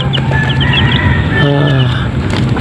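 Chickens cluck close by while young chicks peep in high, thin chirps throughout a short, busy stretch of farmyard noise.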